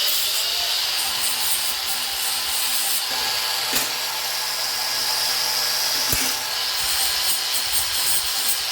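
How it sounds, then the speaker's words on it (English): A tool grinding down rough spots left by a blunt drill on a large homemade RC helicopter blade, a continuous loud hissing abrasion with a couple of brief sharp clicks. "The drill, since it's blunt, left some fucking imperfections there, so I'm gonna grind those off."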